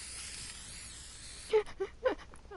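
Spray painting in the Fortnite video game: a steady airy hiss runs through the first half, then three short, louder spray bursts follow at close range with no voices.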